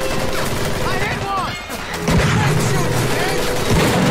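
Heavy gunfire from a large gun in the World War II shooter Medal of Honor: Pacific Assault, loud dense bursts and booms filling the clip alongside battle noise, with a voice talking over it.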